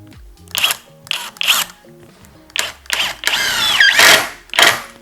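A Worcraft CIS-S20LiB cordless impact wrench runs at its high-speed setting in several loud, close bursts of whirring and hammering, with a longer sustained run near the end and short pauses between the bursts.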